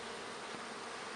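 Honeybees buzz steadily around a beekeeper working an open hive, a dense, continuous hum from a swarm close by with no pauses and no voices.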